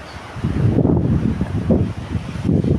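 Waves break among rocks at the sea's edge in a loud, continuous rumbling roar that surges and eases in a few swells, mixed with wind noise on the microphone.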